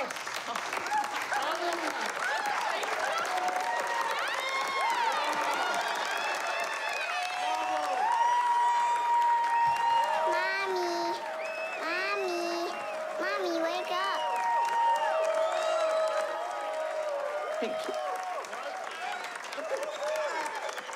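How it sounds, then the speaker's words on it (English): An audience claps and applauds for a performance, a dense and sustained patter of many hands, with cheering voices and talk mixed in throughout. "Clap, motherfuckers."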